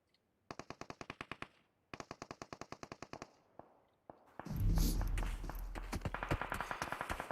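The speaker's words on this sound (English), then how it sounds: "And Tifa ended up finishing him off with a couple bullets." Gunfire in the PUBG Mobile battle royale during a competitive scrim: two rapid bursts of automatic fire with sharp, evenly spaced shots, then a louder, denser wash of shooting and explosion-like roar near the end.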